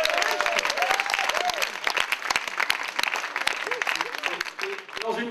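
An audience at a French slam poetry event applauds Thomas with steady, dense clapping from a crowd, while a voice talks over the applause throughout.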